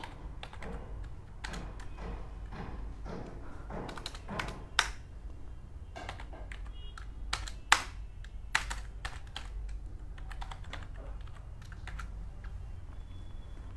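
Rapid, irregular clatter of keys on a computer keyboard as HTML code is typed, bursts of close taps with brief pauses between, a few sharper key strikes standing out.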